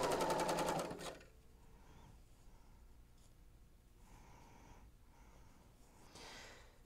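A serger sewing machine stitches quilt sashing pieces placed right sides together, giving a loud rapid whirring burst of about a second, then near silence with faint handling sounds.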